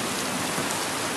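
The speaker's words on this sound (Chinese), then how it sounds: "哇，现场真系好大雨啦" Heavy rain falls on an open football pitch during a match, a brief burst of loud, uniform hiss with no break and no voices.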